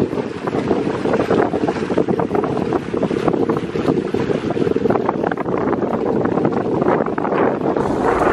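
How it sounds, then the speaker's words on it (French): Strong sea wind buffeting the microphone on a boat trip off Zanzibar, a loud, steady roar of gusts over engine and water noise, continuous throughout with no talking. "Il y a beaucoup de vent."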